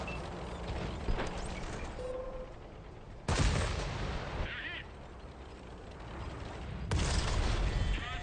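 Artillery fire in a video game: two sharp, loud blasts land a few seconds apart over a constant roar of battle noise, with no voices.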